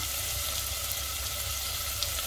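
Onions stirred and frying in a pan, a steady close sizzle with a soft hiss that holds evenly throughout, with no talking.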